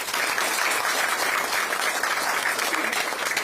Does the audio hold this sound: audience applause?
yes